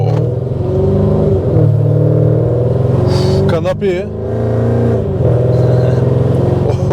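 Mercedes E55 AMG V8 engine revving and pulling hard as the car accelerates, heard loud from inside the cabin with a deep, rising drone. Someone speaks briefly over it.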